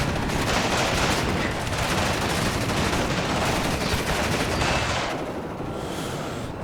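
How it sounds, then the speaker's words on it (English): Dense battlefield din from a Warno game battle: continuous rolling gunfire and machine-gun bursts with booming artillery impacts landing around a burning town, loud and unbroken, easing slightly toward the end. "Artillery starts to land."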